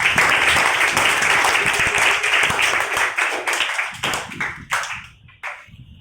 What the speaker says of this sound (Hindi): तो सभी बच्चे इनके लिए ताली बजाइए।